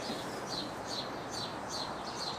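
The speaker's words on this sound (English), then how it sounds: "Birds have come out, which is nice." Birds chirp outdoors in short, repeated bursts at an even pace. The calls are faint and distant over a soft background hiss.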